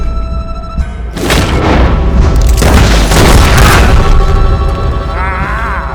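Gunfire from a revolver in the video game Red Dead Redemption 2: a few loud, close booming blasts with a long echoing tail and an outdoor ambience behind them, and no talk.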